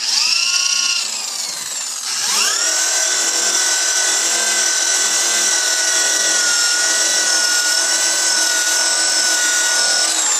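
A power buffer polishes a headlight lens with rouge compound in hard bar form, giving a steady high-pitched whine that dips briefly, then spins back up and holds constant and loud to the end.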